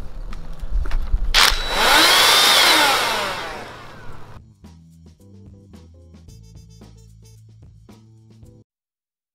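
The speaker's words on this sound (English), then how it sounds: "you drill until you think that you've got it, a clean hole through the rebar" A loud, harsh rotary hammer drilling roar with a grinding, high-pitched edge as the bit cuts through rebar, runs for a few seconds, then gives way to quieter clunks and rattles before silence.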